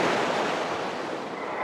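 Strong sea waves roll onto a shore in a broad, steady roar of surf, loud and close, with a windy rush over it.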